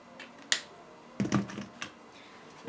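Control, Shift and Enter keys pressed on a computer keyboard, a few sharp close clicks and clacks spaced apart in a quiet room, with one small cluster of taps in the middle.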